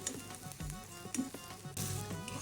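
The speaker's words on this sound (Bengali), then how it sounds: "এই তো আমার পেঁয়াজ আর রসুন ভাজা শেষ।" Onion and garlic sizzling steadily in hot ghee, a close, continuous frying hiss with occasional stirring and spatula movements, no voices.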